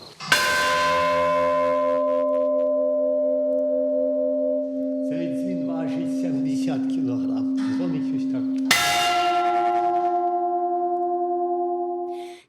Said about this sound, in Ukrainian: Цей дзвін важить 160 кілограм. Дзвонить щось так я вам.